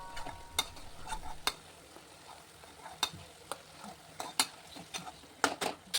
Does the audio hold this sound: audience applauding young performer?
no